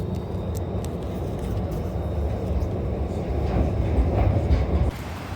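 Subway train riding underway, a steady loud rumble with rail clatter and rolling noise throughout, slightly louder toward the end before easing off.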